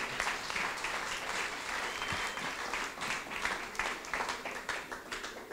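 Crowd applause at a company's 40th-anniversary ceremony greeting a speaker coming to the microphone, a dense, steady patter held at moderate distance throughout.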